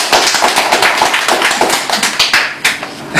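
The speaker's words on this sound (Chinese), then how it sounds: "还得要鼓掌一下" Audience applause at a lecture forum, with close, loud and uneven hand claps in a dense rolling burst and a few sharper slaps standing out near the end. No voices are heard over it.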